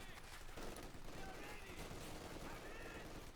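A German MG42 machine gun rattles off in Company of Heroes 2, its dense, continuous bursts of automatic fire blending with other battle gunfire over a few seconds at moderate volume.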